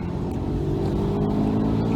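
Steady, loud engine drone and road rumble from a Porsche 997 C4S with squeaky brakes out on a road test, constant throughout with no talking.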